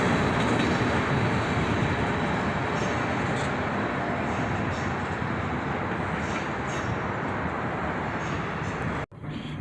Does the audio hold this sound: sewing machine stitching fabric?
no